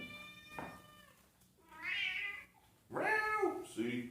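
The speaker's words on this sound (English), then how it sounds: "You want to see the cat?" A cat meows three times, each call drawn out and rising and falling, close and fairly loud against a quiet indoor background.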